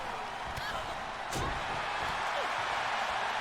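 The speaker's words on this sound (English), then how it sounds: "now slamming Nyla Rose down" A single heavy thud lands partway through, cutting above a steady wash of crowd noise from a busy arena.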